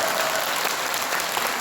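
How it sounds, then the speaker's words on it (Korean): Steady applause from an audience at a Seoul book concert, a dense continuous wash of clapping that fills the short moment without any voices. "박수 한번 주세요, 박수."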